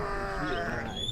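A goat bleats in one long wavering cry on a farm near hot springs in West Java, close and fairly loud.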